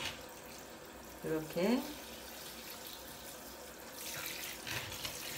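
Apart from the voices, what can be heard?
watering a cyclamen with lukewarm water below the leaves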